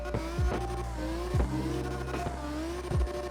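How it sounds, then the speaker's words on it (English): A high-revving drift car engine in CarX Drift Racing Online wails and drops repeatedly, rising pitch sweeps broken by quick shifts and tire scrubs, loud and continuous. "the default sound for this car sounds pretty damn sweet"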